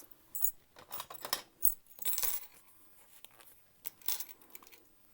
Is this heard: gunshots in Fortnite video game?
no